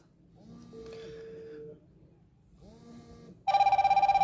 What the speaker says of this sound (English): seems like we can receive a call here from WhatsApp application